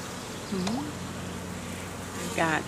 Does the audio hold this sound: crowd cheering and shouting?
no